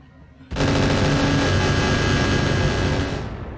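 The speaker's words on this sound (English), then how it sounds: "Something was shooting a big missile at us." Weapons fire and a missile barrage in the Roguetech video game erupt suddenly after a quiet moment into a loud, sustained roar of rapid gunfire and explosions that holds steady for about three seconds before tapering.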